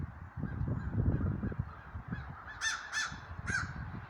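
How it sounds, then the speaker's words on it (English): A crow caws three times, harsh and rasping, over a low rumbling background with some rustling. "Would that be a crow visiting me on this tree right here?"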